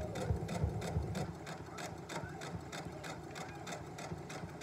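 A sewing machine stitches fabric for a sleep set, running in a fast, even rhythmic whir with regular needle clatter, steady and fairly close throughout.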